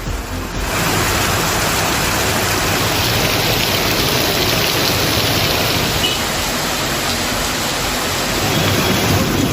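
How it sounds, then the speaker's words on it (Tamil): Heavy, wind-driven rain pours down steadily in a dense, loud hiss that stays constant and close from start to finish. "காற்றுடன் சில மணி நேரம் நீடித்த மழையால் சாலைகளில் மழைநீர் பெருக்கெடுத்து ஓடியது"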